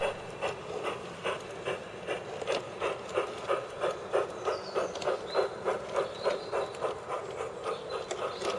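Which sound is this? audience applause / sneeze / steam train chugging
steam train chugging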